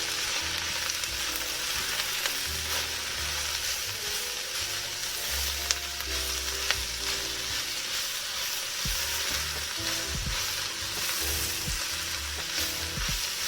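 Chopped leek sizzling steadily in a soup pot for leek and potato soup, a loud, continuous frying hiss with occasional stirring knocks and scrapes close by.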